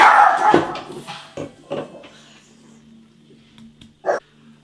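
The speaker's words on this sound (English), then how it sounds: "Dog barking as soon as the doorbell goes off, which he never does." A dog barks in several sharp, close bursts, then quietens to a low steady hum with one more loud bark near the end and no voices.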